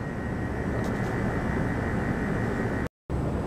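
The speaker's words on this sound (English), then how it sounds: "the compressor just cycled off" A Cavalier Coke machine's refrigeration compressor runs with a steady, loud mechanical hum, broken only by a brief cut to silence near the end.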